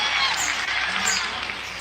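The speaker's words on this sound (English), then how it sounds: "Give her an applause." Audience applause at a political rally for Trump, a steady wash of clapping that fills the whole moment with crowd noise mixed in.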